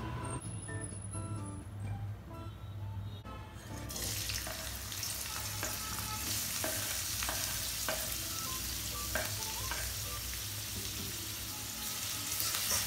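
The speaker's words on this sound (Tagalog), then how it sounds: "isi-stir-fry ko lang siya" Ginger garlic paste, bell pepper and onion stir-frying in a pan at home, a steady close sizzle with scraping stir strokes and clinks running throughout, no talk.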